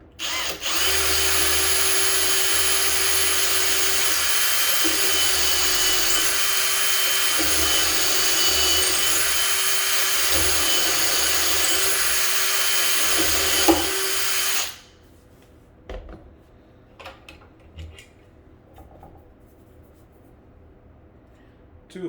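A drill boring holes for handles in kitchen cabinet doors and drawers, a loud steady high whine for about fifteen seconds that stops abruptly, followed by quiet handling clicks and taps.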